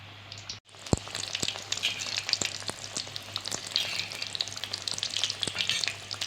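Potato samosas deep-frying in hot oil give a steady, dense crackling sizzle, close and continuous, with a brief drop near the start before the frying noise resumes at full strength.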